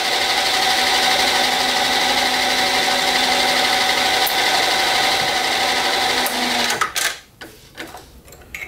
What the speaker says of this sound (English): we're going to slow some speed down in here because we're going to be going in with the reamer